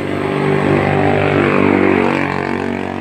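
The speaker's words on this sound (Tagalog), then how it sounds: "Tapos try natin paandarin kung andar nga siya" A Motorstar Easyride 150 motorcycle engine, converted to battery-powered CDI, running loud and close with a steady droning idle that rises slightly in the middle and eases again.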